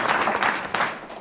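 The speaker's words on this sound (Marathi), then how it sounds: "तर तुम्ही ते करून दाखवलं त्यासाठी जोरदार टाळ्या." An audience in a village certified as a model village breaks into applause, a dense, steady wash of many hands clapping for about a second, fairly close and even, with no talk over it.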